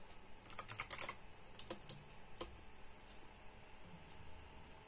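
Quick keystrokes on a computer keyboard while entering terminal commands during an Arch Linux install: a rapid cluster of close, crisp taps, then a few scattered presses that fade into quiet room noise.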